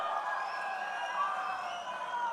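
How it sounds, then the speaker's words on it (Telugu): A party rally audience claps and cheers in a steady, dense wash of applause with no break, fairly faint and a little distant, for the whole stretch. "గట్టిగా చప్పట్లు కొట్టి అందరినీ అభినందించాలి, ఆశీర్వదించాలి."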